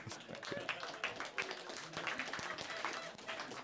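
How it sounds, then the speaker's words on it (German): A pub comedy audience claps in a dense, steady patter of many hands at moderate distance, with murmured crowd noise running underneath throughout. "Und klatscht ein bisschen, aber durch."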